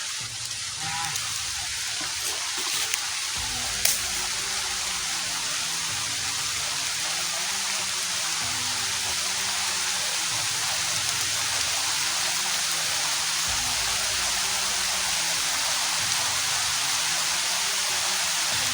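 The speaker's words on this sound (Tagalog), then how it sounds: "Malakas na yung ulan dito guys" Heavy rain pouring steadily outdoors, a dense continuous hiss close by with a low background drone and a few faint knocks, no voices.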